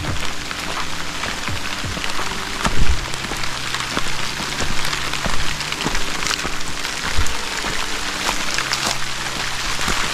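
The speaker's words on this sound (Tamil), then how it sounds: "மழையிலும் ட்ரெக்கிங் பண்ணுறது நல்லா தான் இருக்குது." Rain falling in a hilly forest in a Kerala wildlife sanctuary during a trek, a steady close hiss of drops with occasional louder splashes and knocks, no talking.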